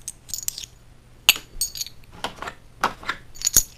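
Small metal board game pieces clink and tap against each other in a quick scatter of sharp, bright hits, close and fairly quiet.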